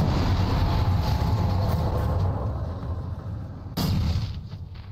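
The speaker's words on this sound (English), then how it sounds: "Now you're throwing explosions at me?" Loud rumbling blasts and heavy low-end booms from explosions in the video game Alan Wake, a sustained roar with a sharp new burst near the end, no talking.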